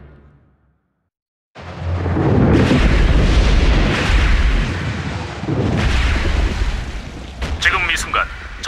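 A volcanic eruption in an animated Transformers: Prime episode, a loud, sustained rumbling roar with rolling booms after a brief quiet start, ending in sharper bursts.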